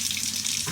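Hot water runs steadily from a tap into a shaving bowl, a close, continuous rushing splash that briefly deepens near the end.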